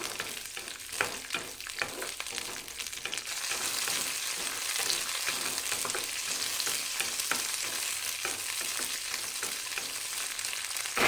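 Slit green chillies frying in hot oil make a quiet, continuous sizzle and crackle, broken by repeated soft stirring scrapes as they are moved around the pan.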